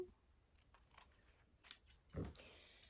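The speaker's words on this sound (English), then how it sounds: "So I'm going to cut that." Scissors snip through fabric during a pants modification, a few short crisp cuts spaced apart with a quiet rustle of cloth between them, close and clear.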